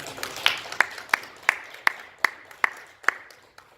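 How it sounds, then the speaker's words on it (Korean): Scattered clapping from a church congregation at a pastor ordination service, a slow run of about eight distinct claps, fairly close and alone. "박수로 환영합니다"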